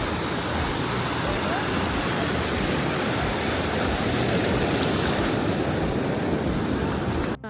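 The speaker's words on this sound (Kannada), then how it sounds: "ತುಂಬ ದೊಡ್ಡ ದೊಡ್ಡ ಅಲೆ ಬರ್ತಾಯಿದೆ" Big ocean waves break on a shore in Malaysia, a loud, continuous wash of surf and roaring water that fills the whole stretch without a break, heard up close and alone.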